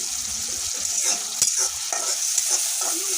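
Spices fried down with bamboo shoots and shrimp, a loud close sizzle broken by repeated scraping and stirring strokes of a spoon in the pan.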